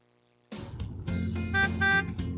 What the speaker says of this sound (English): Why'd you honk and wave at her?